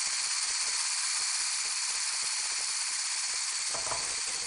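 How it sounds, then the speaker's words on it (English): A hand blender whisks thick tempura batter into stiff peaks, giving a steady, close, high-pitched whirring hum that runs continuously with no talk. "Then using your trusty hand blender, give it a good blitz."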